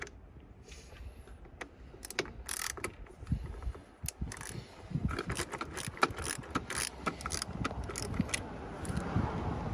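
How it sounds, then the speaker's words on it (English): A 10 mm socket wrench ratchets quietly while a 12V battery is replaced on a Lexus LX, giving irregular clicking bursts with small metallic clanks close by. "Use a 10 mil socket wrench here."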